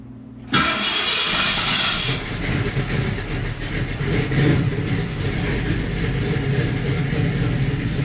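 A car engine cranks and catches abruptly, revving high briefly before settling into a loud, steady idle close by.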